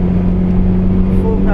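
A race car engine drones loudly and steadily from inside the car on the Mondello Park circuit, with its pitch starting to climb at the very end of the short stretch.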